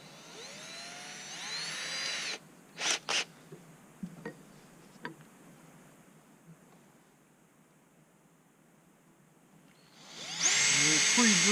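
A power drill pre-drilling holes in wood whirs in a sustained burst, stops, then a few short knocks and clicks follow, before the drill whines again at the end.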